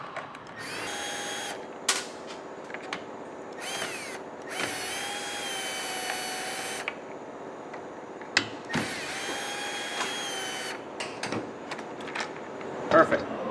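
A Milwaukee cordless drill with a T27 bit whirs in several bursts of a few seconds each, removing a bolt from a string trimmer, separated by pauses with clicks and handling noises, close by and fairly loud.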